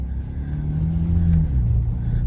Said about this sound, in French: Le son de la voiture est plus rauque.